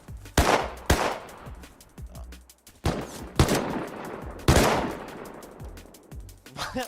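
Gunfire in the survival video game Rust, loud sharp shots in irregular bursts, some rapid strings of automatic fire with echoing tails, spaced by brief lulls.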